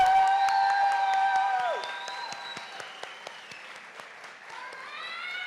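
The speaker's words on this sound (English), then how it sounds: "Let's give another round of applause to the class of" A crowd at a graduation kente stole ceremony claps and cheers with scattered sharp claps, while loud sustained whoops and high vocal cries ring out over it and fade, then rise again.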